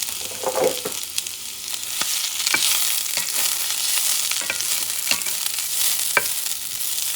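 Bell peppers sautéing in a hot pan over medium-high heat, a steady close sizzle with occasional scraping stirs and clicks, no voices.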